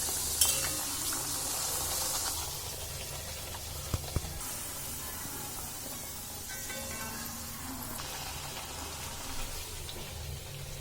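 Luchi, puffed flatbread, frying in hot oil: a soft, continuous sizzle with bubbling and a few sharp clinks of a utensil, heard alone without voices.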